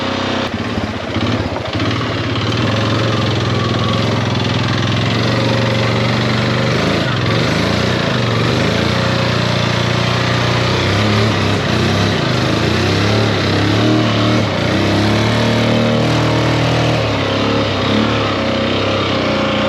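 A worn Honda ATV four-wheeler engine runs steadily nearby, a constant buzzing drone with slight shifts in pitch and a few small rev changes, loud and continuous for the entire stretch.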